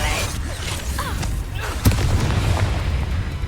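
In the video game Hogwarts Legacy, a Bombarda blasting spell explodes with a sharp crack and a deep boom, layered over dense combat effects and sustained background rumble.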